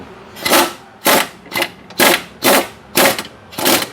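An impact wrench drives suspension bolts on a Mitsubishi Lancer CS3 in loud, evenly spaced bursts, about seven close hammering rattles, each roughly half a second long.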